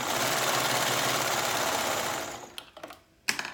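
A sewing machine stitches down a thread tail on a high-low garment, a steady close whir for about two seconds that stops, followed by a few soft clicks and a sharp snip-like sound.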